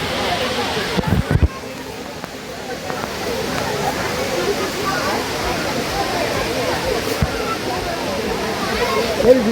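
The 300-foot Palaruvi waterfall in Kerala, a dense, continuous roar of falling water heard close up, with people talking faintly over the rush.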